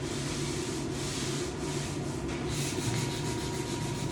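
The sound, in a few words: light sanding of wooden door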